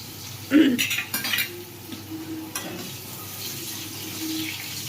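Potatoes go into plenty of oil in a pan with a sharp clatter, followed by utensil scraping and stirring and a quieter hiss as they settle in.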